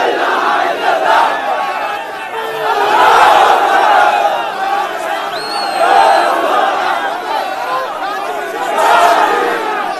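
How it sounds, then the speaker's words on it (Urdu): A vast crowd at a Pakistani PTI political rally chants La ilaha illallah in rising and falling waves, a dense roar of many voices swelling loudest around three, six and nine seconds. "لا الہ الا اللہ کے نعرے گونج رہے ہیں."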